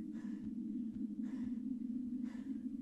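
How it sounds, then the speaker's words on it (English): A character in the horror game The Alchemist's House breathes heavily, with slow, deep, regular inhales and exhales over a steady low hum, quiet and unaccompanied. "Why is he breathing so deeply?"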